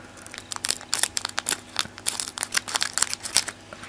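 Scissors cut into a cardboard box, heard as a rapid run of close crinkling, crunching snips in an uneven rhythm, loud and without talk.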